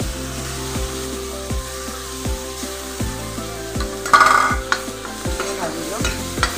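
Chopped tomatoes fry in a pan for an Assamese fish dish, a steady sizzle broken by regular scraping strokes of a spatula, with a brief louder burst of spattering partway through.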